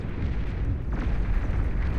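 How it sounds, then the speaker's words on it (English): Anti-nuke missiles launching in the strategy game Beyond All Reason, a dense rumbling roar of rocket fire with a brighter burst partway through, loud and continuous for two seconds. "2 anti-nukes fired."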